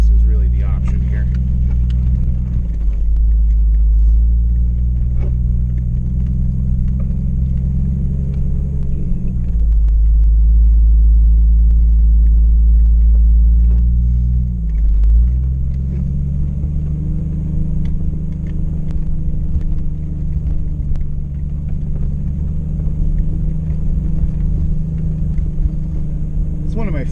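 A small off-road vehicle drives along the rugged Eldorado Canyon trail, its engine producing a loud, deep, continuous rumble that rises and dips as the terrain and throttle change.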